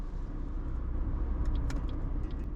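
A car drives along a rural Wisconsin road, a steady loud engine rumble and tyre roar close up, continuous throughout with no talk.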